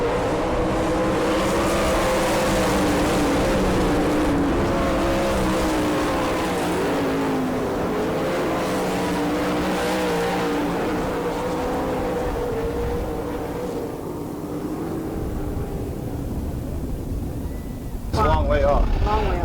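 360 sprint cars roar past at a dirt track in Gibsonton, Florida, engines loud and sustained with rising and falling revs as the field heads for the checkered flag, an announcer talking over the din.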